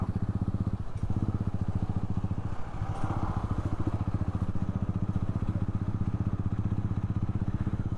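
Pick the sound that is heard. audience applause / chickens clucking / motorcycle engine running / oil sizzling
motorcycle engine running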